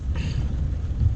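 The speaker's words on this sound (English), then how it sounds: "I'm talking about full-blown thunderstorm rain." Distant thunder from a full-blown thunderstorm about six to seven miles away, a steady low rumble filling the short stretch with a faint hiss of rain above it.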